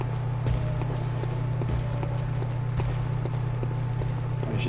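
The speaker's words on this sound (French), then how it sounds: "J'entends des bruits de pas." Footsteps in the video game Bloodborne, a steady run of soft muffled steps over a constant low hum, with no talk.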